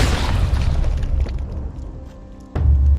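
A single sharp gunshot in Red Dead Redemption 2 aimed at a man's hand, a loud low boom with a ringing tail, followed by another heavy thump near the end.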